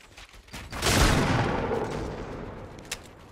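A loud shotgun-style blast in a sandbox building game, followed by a long rumbling decay and a smaller sharp report near the end, with no voices over it.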